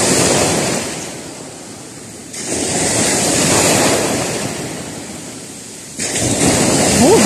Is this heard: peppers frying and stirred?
no